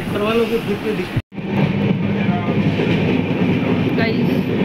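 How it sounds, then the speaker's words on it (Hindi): Ride aboard a passenger train, with a continuous rumble and rattle of the carriage and a brief cut-out near the start, while voices talk over the steady running noise. "अभी हम ट्रेन में बैठे थे"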